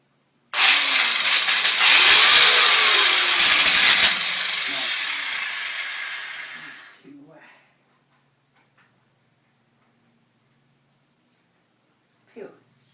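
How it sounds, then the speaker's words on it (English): A power tool whirs loudly as it grinds a nut, running for about six seconds before winding down into silence, followed by a faint tap near the end. "I gotta figure out how I'm gonna grind the damn thing."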